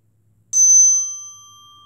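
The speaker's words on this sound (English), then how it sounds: "today we'll start mindfulness with listening to the chime" A single mindfulness chime is struck once, giving a bright, clear metallic ring that sustains and slowly fades out, heard alone in a quiet room.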